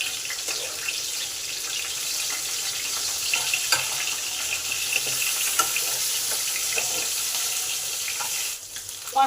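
Fish pieces frying in oil in a home kitchen, a steady soft sizzle that runs through the whole stretch with faint crackles and small clinks from the pan, and no voices.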